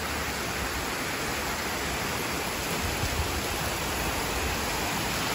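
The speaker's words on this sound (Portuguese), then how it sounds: "Olha essa chuva." Heavy rain pours down steadily, a dense, even hiss of water striking surfaces, constant and loud throughout with no voices.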